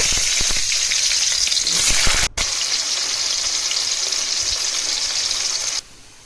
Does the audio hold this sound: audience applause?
no